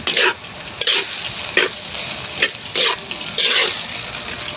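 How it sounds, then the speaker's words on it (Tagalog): A simple Filipino dish is stirred in a pan, with bursts of sizzling scrapes of the spoon coming in about six rhythmic strokes over a quiet background. "Siyempre, halo-haloin lang natin yan."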